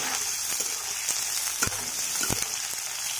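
Chopped onions sizzle in hot oil in a pan, a steady loud frying hiss with a few sharp crackles and stirring knocks, no voices.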